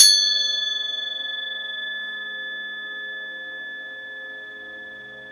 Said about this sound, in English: And then you're going to follow the sound of the gong.